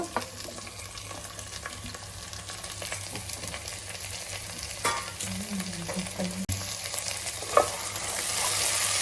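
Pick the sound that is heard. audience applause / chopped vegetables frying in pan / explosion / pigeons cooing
chopped vegetables frying in pan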